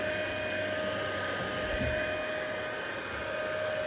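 An Ultenic vacuum cleaner runs at close range with a steady, loud whirring whine and a constant high tonal hum, unchanging throughout.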